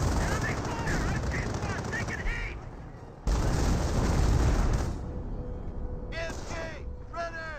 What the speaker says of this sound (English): MG42 firing away against the officer.